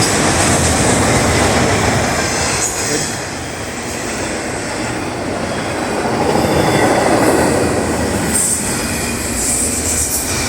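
A graffiti-covered train rumbles steadily past up close, wheels clattering and squealing on the rails, loud throughout with slight swells in volume.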